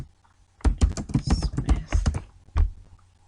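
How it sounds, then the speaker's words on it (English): A name being typed into LinkedIn on a computer keyboard, a quick burst of crisp clacking keystrokes in irregular rhythm with a short pause before a final few taps. "I'm going to write John Smith"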